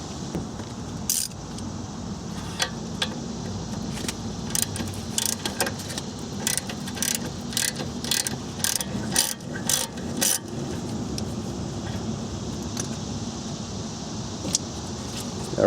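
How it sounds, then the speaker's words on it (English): A wrench turns a 12mm brake line nut on an Acura TL front caliper, making repeated metallic clicks and ratcheting taps in bursts over a low background hum. "there's a 12mm nut right here. Loosen it up so you can break free this brake line from the housing."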